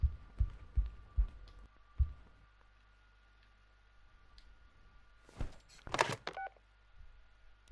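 A telephone dialed in the game Yestersay Origins gives a string of short, distinct tones in a quick rhythm, followed by a quiet hum and a brief burst of higher electronic beeps near the end.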